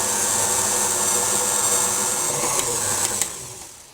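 An electric mixer runs steadily at low speed through carrot cake batter, a continuous close whirring motor drone that eases off near the end.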